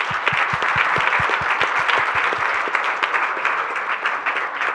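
Steady applause from an audience at the closing of a panel on political violence against women, with dense clapping throughout, strong and close, some louder individual claps standing out.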